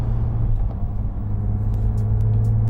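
A 2018 Porsche 911 GT3 Touring engine, a high-revving 9,000 RPM flat-six, holds a loud, steady close-up rumble with a sustained droning tone and no talking.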